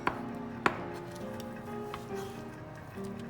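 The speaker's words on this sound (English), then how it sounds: "Remove the moisture from the okra and cut it into rings." A knife slicing okra into rings on a cutting board, a couple of sharp distinct chops followed by softer, sparser cutting taps at close range over faint background music.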